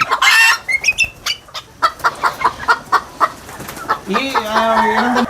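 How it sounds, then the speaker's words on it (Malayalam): A rooster and two hens cluck in a rapid, uneven series of close, loud calls, with a sustained crowing-like call near the end. "ഒരു പൂവനും 2 പിടയും ഒരു പൂവനും"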